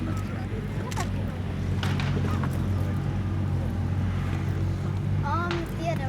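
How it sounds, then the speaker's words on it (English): A Comet tank's Merlin-type aero engine runs at Tankfest 2016, producing a loud, steady, continuous rumble with honk-like tonal bursts, while voices speak over it. "the lovely engine note on this vehicle may be familiar to some"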